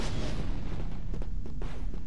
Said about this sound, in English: The stolen A280. Now that sounds like the old school CIS shooting